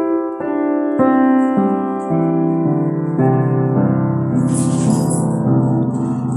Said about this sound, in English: You hear the piano ring.